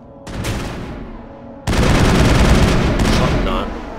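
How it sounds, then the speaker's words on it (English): Gunfire against Geth in Mass Effect 1: a short burst of shots, then a denser, louder volley of rapid gunfire after a brief lull. A voice can be heard faintly under it. "Alright, he's shooting up some Geth here."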